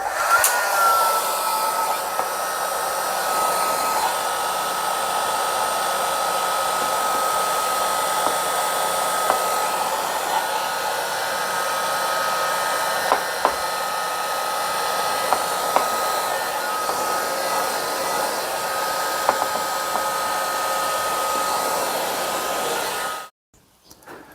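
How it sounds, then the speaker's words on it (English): A heat gun blows steadily at close range while vinyl wrap is stretched over a bike frame, a constant loud airy roar with a faint whine that runs unbroken for most of the time before cutting off abruptly near the end. "that's how we do it with the heat gun"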